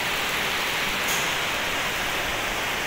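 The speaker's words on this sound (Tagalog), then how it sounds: "Lakas ng ulan, no?" Heavy rain pouring onto a house under construction, a dense, even roar of drops hammering the surface steadily and loud throughout, with no talk.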